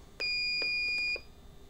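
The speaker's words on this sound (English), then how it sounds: "That long beep says that we have now completed our programming and have saved our program." A single long, steady electronic beep from a Transpring auto filler's programming controller as a program is saved, about a second long, clear and close, over faint background noise.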